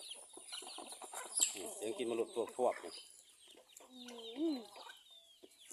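Chickens and turkeys cluck around a farmyard on a sunny morning, with short calls and clucks rising between stretches of close conversational talk.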